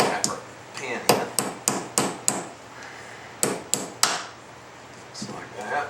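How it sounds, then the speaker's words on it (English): A hammer taps a pin into the bolt of a Benelli Nova shotgun: about a dozen sharp metallic strikes, close and crisp, in short uneven bursts with brief pauses between them. "So we get it lined up, tap our pin in,"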